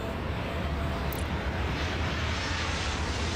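Airplane taking off in the airport control game Airport Madness World Edition: a steady, broadband jet roar that holds even and loud throughout, with no voices.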